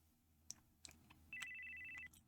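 A telephone ringtone in a visual novel video game plays as a short, clear high electronic trill, preceded by a few faint clicks, with no voices.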